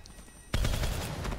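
A sudden burst of rapid automatic gunfire from a weapon in Call of Duty: Black Ops III erupts after a quiet half second and keeps hammering close and loud to the end.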